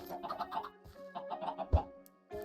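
Minecraft chickens clucking in a quick run of short, bright clucks, then a pause and a few more, close and moderately loud with no talk over them.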